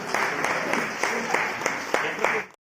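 A crowd gives loud, sustained applause to welcome a speaker at a Samskara Bharati cultural event at Shri Chidambara temple in Gokak. The dense, even clapping continues for a couple of seconds before it cuts off abruptly.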